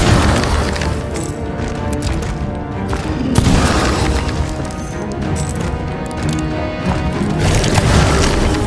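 Cannon fire in the pirate video game Sea of Thieves, a dense barrage of heavy booms and crashes layered over constant loud rumbling battle noise.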